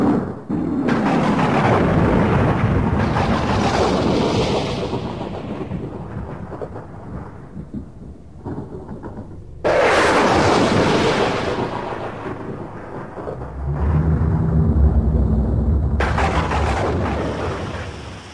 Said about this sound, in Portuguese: Graças a Deus, muito relâmpago, trovões.